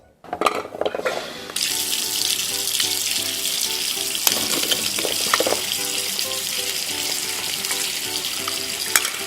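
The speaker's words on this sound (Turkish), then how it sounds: "Yemek yapmadan önce bunları güzelce yıkamalıyım." Tap water runs over tomatoes and peppers being washed in a sink, a steady, loud rushing stream that starts after a brief clatter and continues to the end.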